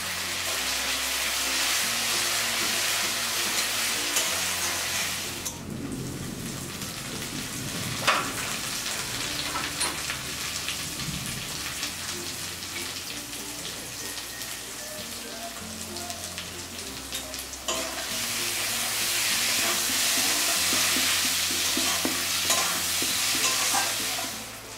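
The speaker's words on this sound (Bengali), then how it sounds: "আদা রসুন বাটা, কাঁচা লঙ্কা আর জিরে বাটাটা দিয়ে আবারও নাড়াচাড়া করে ভেজে নিচ্ছি।" Ginger-garlic paste, green chilli and cumin paste fry in oil for a fish dopiaza, sizzling steadily while a spatula scrapes and stirs the pan, with the sizzle easing and swelling again as the stirring goes on.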